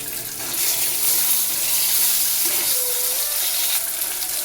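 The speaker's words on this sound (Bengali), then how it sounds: "মশলার বাটি ধোয়া জলটা দিয়ে দিচ্ছি।" Water used to rinse a spice bowl is poured in a steady, loud stream into a cooking curry of tomato, cauliflower and paneer, with a slight sizzle underneath and no talking.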